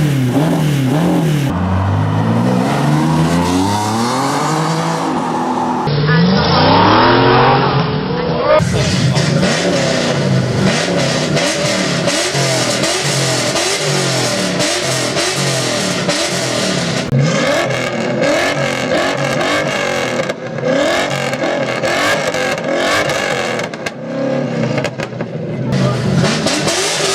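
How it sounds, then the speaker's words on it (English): TVR Cerbera sports car with loud exhaust, revving repeatedly in sharp bursts and sweeping up and down through the revs, close and dominant, with a brief lull near the middle and sustained engine roar throughout. "enjoy these clips of TVR exhaust"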